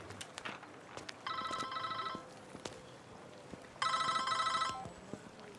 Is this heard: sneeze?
no